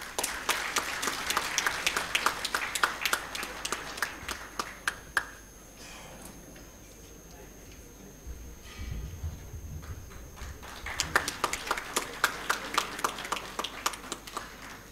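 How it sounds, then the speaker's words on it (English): Audience at the SCROLLS 2018 awards ceremony claps for the winners, a moderate burst of applause that dies down mid-clip to a murmuring room, then picks up again with scattered clapping. "Come on, bhai, please give an applause."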